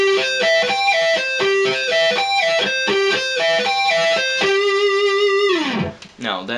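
An electric guitar plays a slow sweep-picking-style arpeggio, clear repeating runs of distinct notes at a steady pace, then a final note bends down and trails off.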